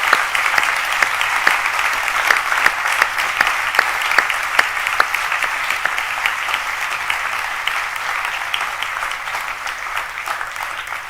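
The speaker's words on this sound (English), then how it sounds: "can we please have a massive round of applause for all those people" A crowd at a university racing team's car launch event giving sustained, dense applause for the team, loud and steady throughout with scattered sharper individual claps and no talking.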